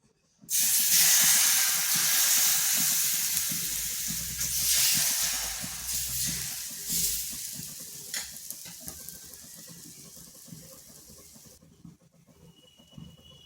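Loud, steady sizzle as batter hits a hot oiled pan, bursting in sharply then hissing continuously and slowly fading over several seconds, with no talking.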